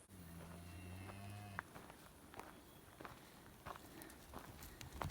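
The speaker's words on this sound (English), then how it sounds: "Hello, moo cows." Cattle in a field give a low, drawn-out moo near the start, with footsteps and rustling going on throughout and no talk.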